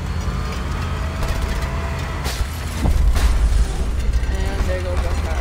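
A car blows up in the open-world action game Just Cause 2, a loud low boom bursting out over constant game noise and gunfire for about a second before settling back into the rumbling din.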